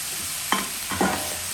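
Steady loud sizzling from a hot pan of beef chowmein vegetables and fried beef, with two sharp scraping stirs about half a second apart as food is tossed around.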